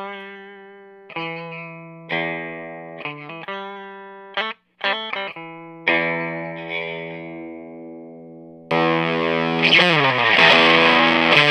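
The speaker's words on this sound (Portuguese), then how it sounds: "Fender America Traditional, Mini 8 da Solo Amps, e esse é o meu som limpo." An electric guitar, a Fender American Traditional played into a Solo Amps Mini 8, plays a clean tone: single plucked notes and chords ring out and decay one after another. A denser, grittier strummed passage follows near the end, with no talking.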